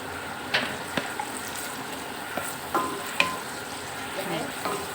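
Chopped onion sizzles in hot oil in a pan for Padang-style crab, with a steady frying hiss broken by sharp scrapes and clacks from a spatula stirring nearby.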